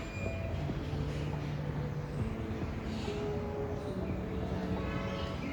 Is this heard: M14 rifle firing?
no